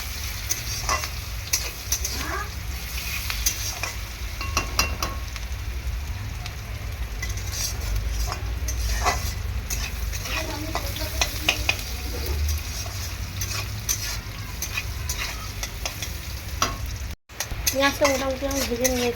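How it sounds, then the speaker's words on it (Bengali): Onions fry in oil in a pan while being stirred, a constant loud sizzle with frequent spatula scrapes and clinks against the metal, and a voice briefly heard near the end. "ভালো করে পেঁয়াজটাকে আমি ভেজে নেব"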